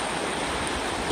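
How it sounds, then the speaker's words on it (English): The Warm Springs River at Hot Springs makes a steady, close rush of flowing water, a dense even wash of stream noise that continues unbroken with no voices over it. "This is the Warm Springs River."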